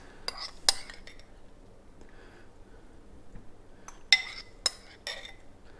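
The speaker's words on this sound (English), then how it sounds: "Get all the good bits out of your mix and into the waffle iron." A utensil scrapes keto chaffle batter from a mixing bowl into a waffle iron, producing several sharp metallic clinks and taps in short bursts with quiet scraping between them.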